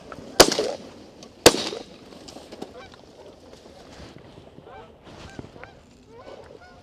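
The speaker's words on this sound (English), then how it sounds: "I pulled up on the lead goose and then decided to shoot" Two sharp, loud shotgun blasts about a second apart ring out during a goose hunt, followed by a flock of geese honking repeatedly at mid distance, their calls scattered and overlapping.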